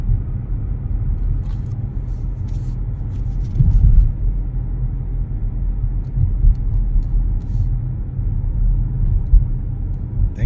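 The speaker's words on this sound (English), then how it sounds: "Beautiful day here, driving on a twisty road." A car driving along a twisty road gives a steady low engine and tyre rumble, close and continuous, with a few swells as it accelerates, no voices over it.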